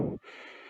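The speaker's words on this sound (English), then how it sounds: "Lots of breathing going on here." Heavy, effortful breathing from a rider mid-workout in an indoor cycling class, a sharp gasp-like inhale up front followed by a sustained airy exhale, close and fairly loud with no talk.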